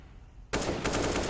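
Counter-Strike CSGO gunfire from a pro match, a sudden loud burst of rapid automatic shots that cuts in after a quiet moment and keeps going.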